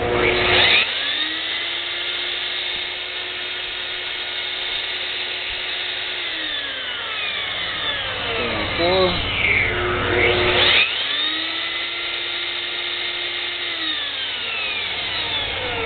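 A Rong Fu 4-inch variable-speed band saw runs with a steady motor whine and blade hum, swooping up and down in pitch twice as the speed is changed, loud and close with no speech.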